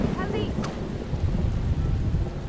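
Rain and rolling thunder in the video game Submerged: Hidden Depths, a steady loud downpour with a brief crack early on and low rumbling throughout.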